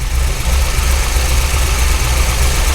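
A 2003 Corvette C5 engine idling unevenly after sitting at auction, with a loud, steady, close rumble that carries a slightly lumpy, unbalanced pulse and no voices.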